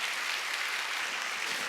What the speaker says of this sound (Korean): 박수 치려면 세게 치라고.